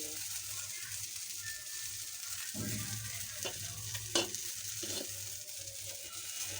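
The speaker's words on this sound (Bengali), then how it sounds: "দেখেন আমার বেগুন ভাজিগুলো কি সুন্দর হচ্ছে" Eggplant slices fry in a pan, a soft, steady sizzle broken by a few sharp crackles and pops, with no voices.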